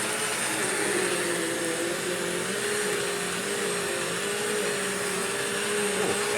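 A Bissell CleanView Swivel vacuum cleaner runs continuously at close range, with a steady motor whine and airflow roar that holds an even pitch and level throughout.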